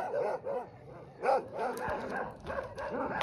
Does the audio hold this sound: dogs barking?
yes